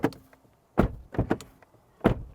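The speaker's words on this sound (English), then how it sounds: "That's what the door sounds like." Car door of a 2023 Mahindra Scorpio shutting, heard as several close, solid thuds and clunks with short pauses between them, alone without talk.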